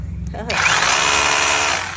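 An AKITA cordless rotary hammer drill switches on after a brief quiet start and runs steadily in chisel mode, a loud continuous whirring and rattling drone that holds at an even level.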